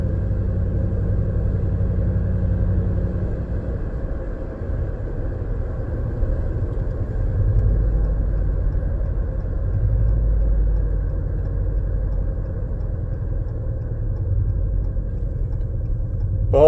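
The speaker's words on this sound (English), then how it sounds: "hopefully that gave you a good idea what this truck sounds like" A 2019 Ram 1500 with a 5.7 HEMI V8 and a Solo Performance MR 300 muffler delete gives a steady, deep exhaust rumble. The drone is heard from inside the cab and stays loud throughout.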